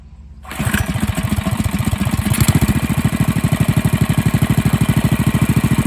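A small engine found in a barn, fitted with a dirt bike carburetor and its governor removed, fires up and settles into a loud, steady, close running chug with a rapid even beat.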